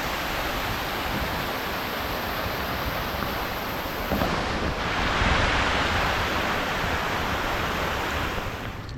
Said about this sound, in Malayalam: ആ സ്റ്റേപ്പിൽ കൂടെ വെള്ളം ഒഴുകുന്നുണ്ടോ നല്ല രസമുണ്ട്